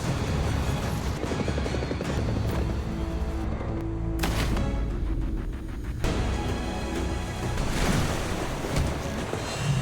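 A helicopter drones continuously with a rhythmic rotor chop, mixed with dramatic sound effects and a few sharp bursts.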